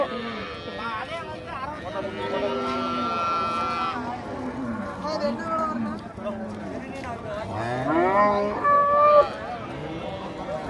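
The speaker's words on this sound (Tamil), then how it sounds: "இதெல்லாம் எருமை." Buffaloes and cattle at a large weekly cattle market in Tirupur low and bellow in drawn-out calls amid a busy crowd, with people talking close by over the animals.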